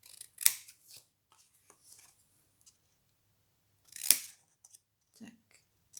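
Paper being cut with scissors while making a small box, giving two distinct snips about four seconds apart with faint rustles in between and no talking.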